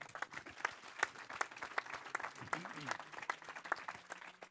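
An audience applauding a guest at an event, many separate claps in a thin, moderately distant patter, with some talking and crowd murmur mixed in.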